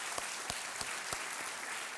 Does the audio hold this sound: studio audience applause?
yes